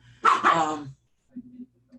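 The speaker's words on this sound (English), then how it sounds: "I told you the dogs were going to make an appearance." Dogs bark in a few short bursts, a louder close yelp-like burst first, then fainter, quieter barks trailing off a moment later.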